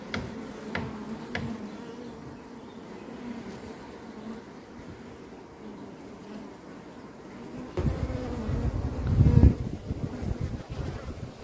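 Honeybees swarm around a top-bar hive and a newly introduced queen beside the Iskar reservoir in May, making a steady, close droning buzz over light wind, with a louder rustling burst near the end.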